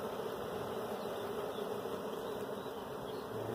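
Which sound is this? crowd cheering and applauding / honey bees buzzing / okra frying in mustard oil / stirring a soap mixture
honey bees buzzing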